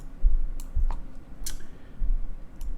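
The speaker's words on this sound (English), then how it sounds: "How do I get this race up? By clicking on that button." A computer mouse button is clicked during a horse racing review, giving a few sharp, faint clicks over low background rumble with no talking.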